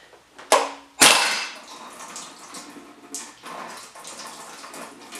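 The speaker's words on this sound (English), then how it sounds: "That's just the radiator fluid dripping out." Radiator fluid drips and splashes from a Jeep CJ7 tipped forward during clutch removal, with a sharp clatter near the start followed by irregular wet splatters and trickling close by.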